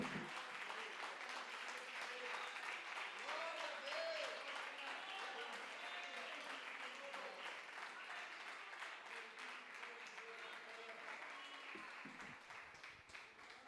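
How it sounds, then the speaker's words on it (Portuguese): A church congregation at a live family worship service claps and cheers together in a loud, sustained wash of applause, with voices mixed in and the noise fading slightly near the end. "Dá uma salva de palmas mais forte para Jesus."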